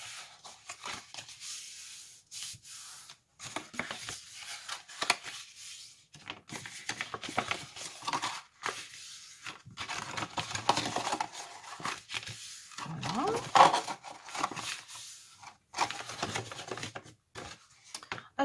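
Marked cardboard is folded for a homemade box: irregular creasing, rustling and scraping sounds come in short bursts separated by quiet pauses, close and fairly faint.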